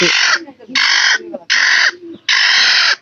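A broody hen set on eggs clucks loudly and close in four drawn-out, raspy bursts separated by short pauses.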